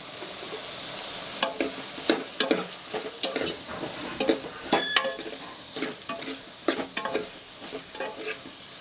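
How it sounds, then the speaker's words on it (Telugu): Ginger garlic paste sizzles and fries in a pan while a utensil stirs it repeatedly, giving a steady frying hiss broken by frequent scraping clinks as sambar is cooked. "ఇందులోనే కొంచెం అల్లం వెల్లుల్లి పేస్ట్ వేసుకుందాం"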